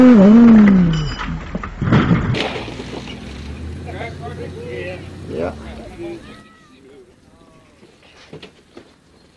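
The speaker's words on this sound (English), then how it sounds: "Now listen carefully to the engine." A UTV engine roars loudly for a few seconds as the vehicle launches off a ledge, then settles into a lower, uneven rumble and fades toward quiet; a voice is heard briefly over it.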